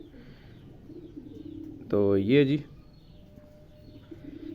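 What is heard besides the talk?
Sialkoti breeder pigeon cooing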